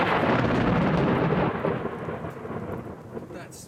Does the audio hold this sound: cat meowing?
no